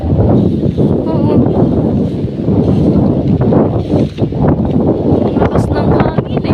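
Strong wind in Bacacay, Albay buffets the microphone in a steady, rumbling roar, with voices talking intermittently over it.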